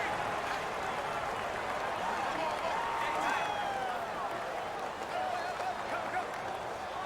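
Home stadium crowd noise in Madden 2019 during a Rams vs Patriots game, a steady roar of cheering and whistles that does not let up, with commentary voices talking over it.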